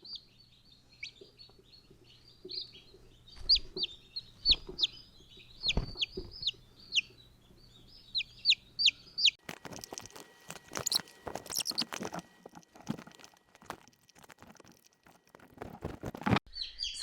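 Newly hatched baby chicks peep in rapid high chirps nearby, then shuffling, rustling and handling noises crowd in and partly cover their calls.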